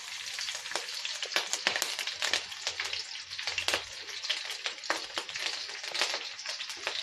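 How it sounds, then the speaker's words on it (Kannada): Green chillies hit hot oil in a pan and sizzle and crackle continuously, with dense popping bursts close up and no talking. "ಈಗ ಎಣ್ಣೆ ಕಾದಾಗ ಹಸಿಮೆಣ್ಸಿಕಾಯಿ ಹಾಕ್ತಾಯಿದ್ದೀನಿ"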